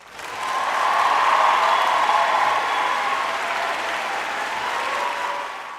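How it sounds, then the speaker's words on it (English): An audience breaks into applause, a broad wash of many clapping hands that swells within a second, holds steady and loud for several seconds, then eases slightly toward the end. "And give this little 10-year-old a round of applause for knowing stranger danger."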